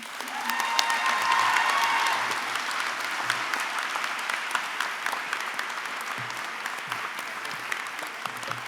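A graduation ceremony audience for a university arts and humanities class of 2024 applauds a student speaker, with broad sustained clapping that swells early and then holds steady.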